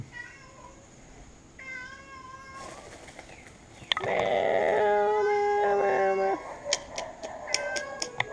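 A cat meows several times in a row, drawn-out and fairly loud, followed by sharp ticking clicks near the end, with no talk.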